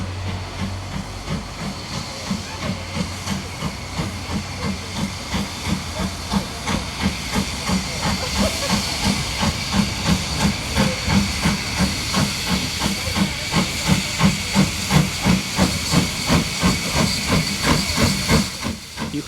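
A steam train on the Avon Valley Railway hisses steadily, with rhythmic chuffing pulses building in strength as it works nearby, a continuous loud wash of steam with no talk.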